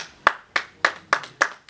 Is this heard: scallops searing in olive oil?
no